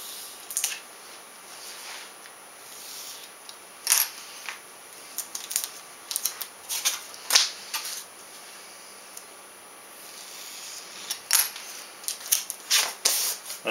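Trimming material on a CNC-cut wing build, a series of quiet, sharp snipping and clicking cuts in irregular bursts, close by, with no talking.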